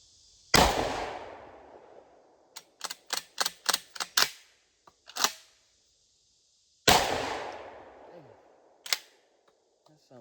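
A GForce GF3P 12 gauge shotgun fires hot loads: two loud, sharp blasts several seconds apart with a ringing decay, separated by a quick series of mechanical clicks and clacks from handling the gun.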